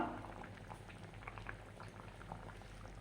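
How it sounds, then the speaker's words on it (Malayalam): Steady bubbling and popping of a thick fish curry with green mango boiling in a pot, close and fairly quiet, continuous throughout. "കറി നന്നായി തിളച്ച് വന്നിട്ടുണ്ട്"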